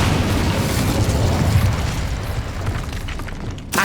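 An Incendio fire spell blast in Hogwarts Legacy rumbles deep and loud, slowly fading, before a sharp fresh burst at the very end.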